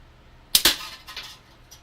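A slingshot fires: a sharp double snap of the released rubber bands, then a few fainter clicks and a distant thin impact, close and loud against quiet surroundings.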